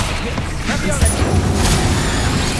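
Spell effects crackle and burst in Hogwarts Legacy as the Incendio fire spell is cast, with whooshes and impacts blending over steady background noise and a voice speaking.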